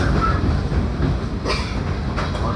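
A JR Yamatoji Line 201 series electric train rumbles steadily along the track, with a few brief clicks and squeaks cutting through the continuous running noise.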